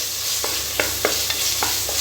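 Tomatoes sautéing with masala in a pan for chicken biryani, a soft continuous sizzle broken by about six evenly spaced scraping strokes of a spoon stirring.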